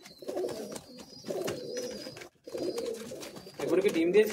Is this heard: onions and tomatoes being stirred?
no